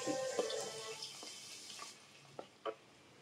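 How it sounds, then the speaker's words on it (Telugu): Thinly sliced onion and green chillies frying in hot oil, giving a soft sizzle that fades after a couple of seconds, followed by a few scattered clinks of a utensil in a quiet kitchen. "ఇప్పుడు సన్నగా తరిగి పెట్టుకున్న ఉల్లిపాయ, పచ్చిమిర్చి ముక్కలను వేసుకుని"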